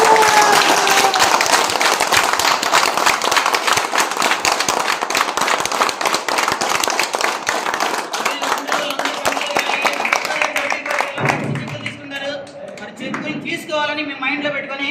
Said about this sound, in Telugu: కంపెనీకి ఒక్కసారి గ్రాండ్గా క్లాప్స్ ఇద్దామా?